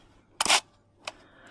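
A Primarflex II medium-format camera fires its shutter at 1/50 second: a sharp, loud mechanical clack, then a second, lighter click about half a second later, heard up close in a quiet room.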